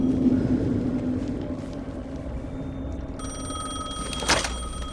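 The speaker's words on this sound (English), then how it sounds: "The phone again." A telephone rings in the video game Alan Wake II, an electronic ring starting partway through over a low, droning dark ambience, with a sharp burst near the end.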